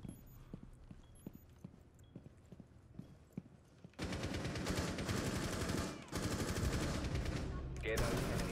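Rapid gunfire from the tactical shooter Rainbow Six Siege, starting with sparse single shots over quiet background, then bursting into loud, dense sustained automatic fire with brief pauses, no speech.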